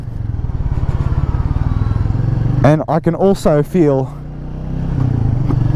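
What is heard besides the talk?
single cylinder motorcycle engine riding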